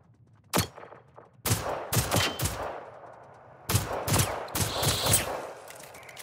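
Gunfire in the video game Generation Zero: a single shot, then bursts of rapid rifle fire in quick clusters, loud and close, with short pauses between volleys.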